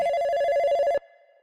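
A mobile phone rings for an incoming call, sounding a loud, steady electronic tone for about a second before it cuts off sharply and a faint tail fades away.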